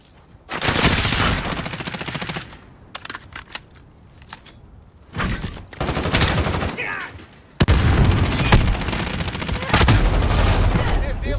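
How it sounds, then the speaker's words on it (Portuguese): Bursts of rapid automatic fire from a Vector in a video game, loud and close, coming in several separate volleys with short quiet gaps between them and some faint talk. "Vou usar minha arma aqui agora"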